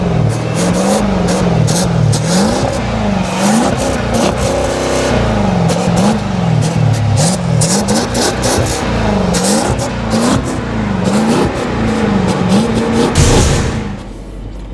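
A 2014 SUV, such as a Jeep Grand Cherokee SRT, BMW X5 M or Porsche Cayenne GTS, launching at full throttle from 0 to 60 mph: a loud, close engine roar that climbs repeatedly through the gears, easing off near the end.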